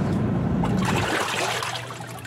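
Water pouring into a 10 kg twin tub washing machine, a loud continuous rushing gush close by that eases slightly toward the end.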